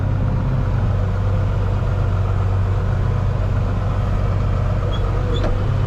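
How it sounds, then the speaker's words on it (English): A John Deere 4840 farm tractor, used for planting, idles steadily from inside the cab, a constant low diesel rumble with no breaks, loud and close throughout. "Alright guys, I'm in the planter tractor here in the old 4840."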